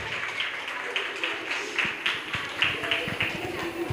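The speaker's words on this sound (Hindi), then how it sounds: "तो जोर से तालियां बजाइए फिर।" Audience at a school annual day clapping together, a steady patter of many hands with rhythmic peaks, fairly near, with some voices mixed in.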